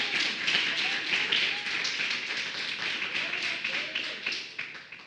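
A church congregation claps during a worship service, making a dense, continuous wash of many hands. It sounds fairly distant and even, with faint voices beneath it.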